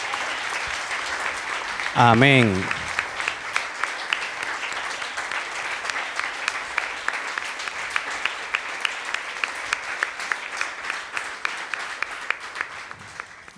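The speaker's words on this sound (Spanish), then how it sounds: "Dale un fuerte aplauso al Señor." A church congregation gives loud applause to the Lord during worship, opening with a sung phrase and then a long, rhythmic stretch of many hands clapping together in a steady beat, with voices scattered through it.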